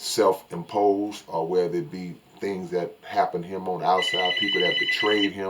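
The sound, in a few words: mobile phone ringing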